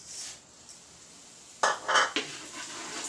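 Garlic goes into a pan for turmeric rice, with a faint hiss followed by a few sharp metallic scrapes and clinks of a utensil against the pan.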